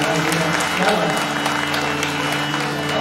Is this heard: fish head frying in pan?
no